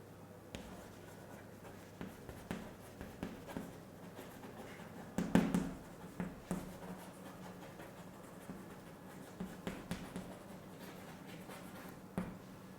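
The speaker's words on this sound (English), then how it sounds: "I'll write a few particular points." A pen scratches and taps on paper in quiet, irregular strokes over a low steady background hum, with a few sharper marks standing out.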